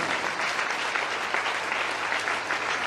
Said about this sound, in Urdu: یسوع کے لیے ذرا زوردار تالیاں بجائیں۔